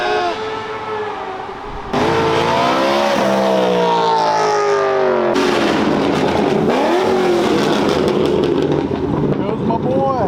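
A Pagani supercar engine revs hard in repeated bursts, rising and falling pitch sweeps loud and close, with excited voices and shouting over it.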